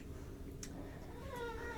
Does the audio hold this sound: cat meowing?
yes